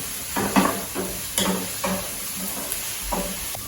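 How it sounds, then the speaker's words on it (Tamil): Onions sauté in a pan for paneer potato cutlets, a soft sizzle broken by several scraping stirs. "இப்போ வெங்காயம் மட்டும் நல்லா வதங்கணும்"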